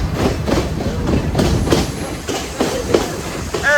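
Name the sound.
train travelling to Ella station, Sri Lanka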